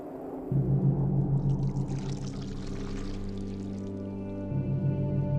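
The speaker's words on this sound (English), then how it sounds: "pour from a height, creating this cascading waterfall of chocolate with bubbles at the bottom" Liquid chocolate poured from a height between cylinder jars makes a steady cascading splash and gurgle with a bubbling tone, continuous and close, easing slightly near the end.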